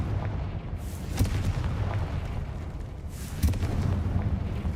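Confringo blasting spell going off in Hogwarts Legacy, two booming explosive bursts about two seconds apart over a dense, rumbling game soundscape.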